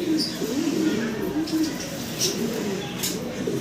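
Pigeons coo in low, rolling repeated calls close by, with a few faint higher chirps over a steady background hum.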